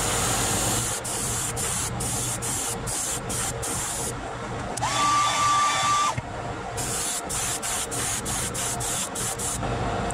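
A heat gun heat-setting paint on a fishing lure gives a steady loud blowing hiss that runs unbroken from start to finish, close by, with a brief tonal whine in the middle.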